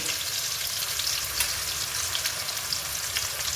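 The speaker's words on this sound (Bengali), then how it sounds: "আর এই পেঁয়াজের সঙ্গে মাংসটাকে ভেজে নেব" Chicken pieces frying with chopped onion and whole spices in hot oil, a dense continuous sizzle heard up close, steady in level and without any talking over it.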